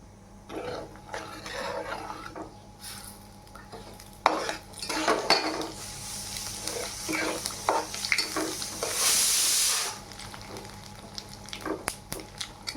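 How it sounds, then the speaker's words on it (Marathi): Sesame seeds roast in a pan over a khichkas mixture, with scattered crackles, scraping stirs and clattering utensil knocks in a home kitchen, and a burst of hiss midway; no voices. "तीळ पण चांगले तडतडले बघा"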